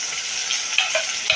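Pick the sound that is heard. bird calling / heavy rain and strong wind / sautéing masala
sautéing masala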